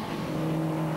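A race car at the 1997 Nurburgring 24 Hours runs with a rough-sounding engine, giving a brief, steady, droning roar at moderate distance.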